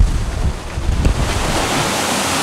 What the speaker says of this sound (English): Ooh, we are getting blown around.